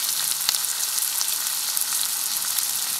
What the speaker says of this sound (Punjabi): ਇਹਨਾਂ ਨੂੰ ਆਪਾਂ ਥੋੜ੍ਹਾ ਥੋੜ੍ਹਾ ਭੁੰਨਾਂਗੇ, ਜ਼ਿਆਦਾ ਨਹੀਂ ਭੁੰਨਦੇ।